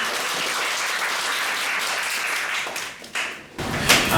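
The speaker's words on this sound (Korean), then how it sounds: "박수 한번 부탁드립니다" An audience at a company branch training session applauds to welcome the company head, a dense wash of clapping that stays steady and loud for a few seconds, then dips and flares again in scattered claps.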